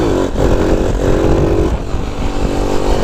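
Honda Cub C90 motorcycle with a 140cc engine running, a loud continuous close engine drone with a slight rise and dip in revs throughout.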